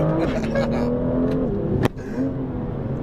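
A BMW M2 driven in manual mode pulls hard with a strained engine note, a brief sharp crack partway through, then the revs climb again close by.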